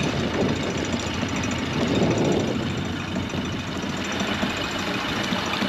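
A Suzuki 150 outboard motor on a 2008 Hewescraft 220 Ocean Pro boat idles while warming up in the cold, a steady loud rumbling drone with a fast mechanical knock throughout.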